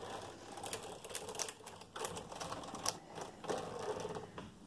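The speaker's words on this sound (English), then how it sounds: "And run the carriage across." A KnitKing ribber knitting machine carriage run across the needle bed gives a soft, continuous rattling clatter with small clicks over several seconds, faint and steady, with no voices.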